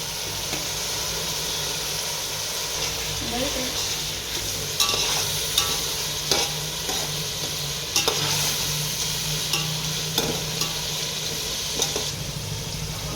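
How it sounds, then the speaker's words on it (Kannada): Tomatoes sizzle steadily in a large pot for Mandya-style biryani while a ladle scrapes and stirs, producing repeated sharp clanks against the metal over the constant frying hiss. "ಈಗ ಟೊಮೊಟೊ ಹಾಕಿ ಹುರಿತಾ ಇದ್ದೀವಿ"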